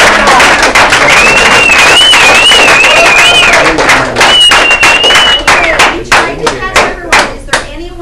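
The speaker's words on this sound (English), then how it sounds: "we want to give her a big round of applause" A room of people claps in a loud, busy round of applause, with thuds and taps among the claps, a whistle-like tone sliding above it and scattered voices; the clapping thins into separate claps near the end.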